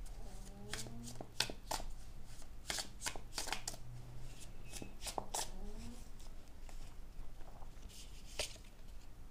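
Tarot cards are shuffled in quick, crisp riffles and flutters, close and fairly quiet, with a few soft taps between bursts.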